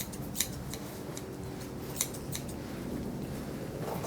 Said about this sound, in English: Just trimming here.